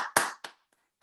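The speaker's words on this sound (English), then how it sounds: "I'm just gonna clap" Two sharp hand claps from a single person at an online book event, close and loud, spaced about a quarter second apart, followed by near silence.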